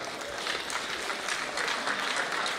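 An audience at the official launch ceremony of a 60th anniversary logo applauds briefly, a soft, diffuse patter of clapping heard from a distance over a short stretch.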